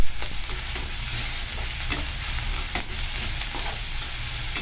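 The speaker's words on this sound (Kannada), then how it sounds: "ಇವಾಗ ನೋಡಿ, ಫ್ರೈ ಆಗ್ತಾಯಿದೆ." Green chillies, ginger and garlic fry in hot oil in a pan with a loud, continuous sizzle, broken by occasional clicks and scrapes of stirring, with no talking.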